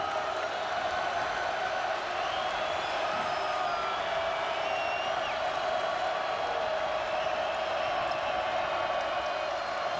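A basketball arena crowd at a 2004 NIT second-round game between Iowa State and Florida State keeps up a constant, dense roar and murmur for the whole stretch, with no clear individual voices.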